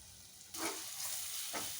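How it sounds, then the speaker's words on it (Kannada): Spice paste sizzles in a pan while being stirred and mixed for brinjal vangibath gojju made with MTR powder, chilli and salt, a soft steady frying hiss with a couple of scraping stirs. "ಈಗ ಚೆನ್ನಾಗಿ ಮಿಕ್ಸ್ ಮಾಡ್ಕೊತಾ ಇದ್ದೀವಿ ಚೆನ್ನಾಗಿ ಫ್ರೈ ಆಗಿದೆ"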